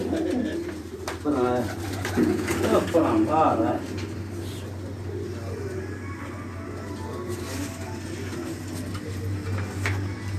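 Pigeons coo in a breeder's loft at a house, with a few repeated calls early on against a steady low hum, while people talk nearby.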